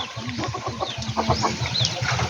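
Chickens at a poultry farm cluck in a rapid, steady run of short calls, close and loud, with no talking over them.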